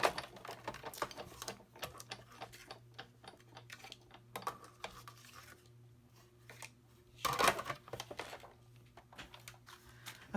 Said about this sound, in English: Make sure everything stays in place and die cut these 2 pieces.